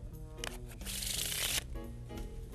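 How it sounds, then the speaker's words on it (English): A deck of playing cards is riffled and shuffled together by hand during a card trick, with a dense burst of fluttering card noise in the middle and softer handling before and after, close and clear with no talk. "Kind of shuffle them together in this fashion."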